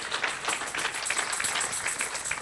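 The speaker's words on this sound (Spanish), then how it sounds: "Dele palmas al Señor." Church congregation clapping for the Lord during a sermon, a dense, continuous wash of many hands applauding together at a steady moderate level.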